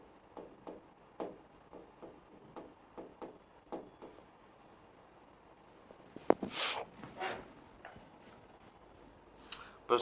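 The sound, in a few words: teacher writing on the board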